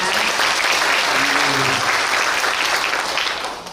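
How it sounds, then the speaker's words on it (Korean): A lecture audience in the Mungyeong City Hall main conference room applauds to welcome the mayor, loud sustained clapping from a large crowd, with a brief voice murmuring underneath, before it fades at the end. "여러분 박수로 맞이해주시기 바랍니다."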